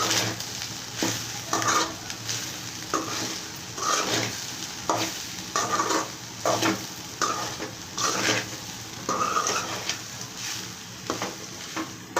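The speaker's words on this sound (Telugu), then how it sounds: "మరో ఐదు నిమిషాలు వేగాలండి ఇది మంట తగ్గించుకొని సన్న మంటలోని" Repeated scraping stirs over a continuous sizzle as goat blood fries in a pan with ground spice powder, loud and close, in an uneven rhythm.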